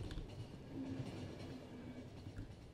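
Low, steady rumble of a train rolling along rails in The Final Station, with faint rhythmic clatter and a thin whine, heard quietly and continuously with no talk.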